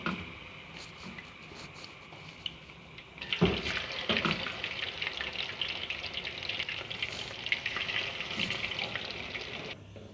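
Chicken pieces for pakora-style burgers deep frying in hot oil; a quieter start gives way to a loud, steady bubbling sizzle once fresh pieces go in, with faint voice nearby.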